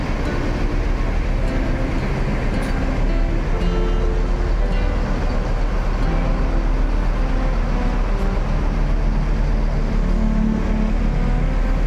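A Volvo B11R sleeper bus reversing to park, a loud steady diesel rumble that stays constant and close for the whole stretch, with no voices over it.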